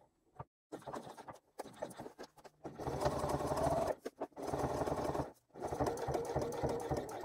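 A sewing machine stitches a slip pocket line on a crossbody bag in several loud, close runs of rapid stitching. The runs are split by short pauses, with a few brief bursts at the start.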